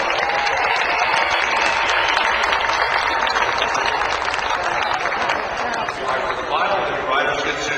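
Crowd gives a big round of applause for volunteers at the 2007 Springfield TT flat-track motorcycle race, dense continuous clapping with cheers throughout, loud and close, with voices mixed in.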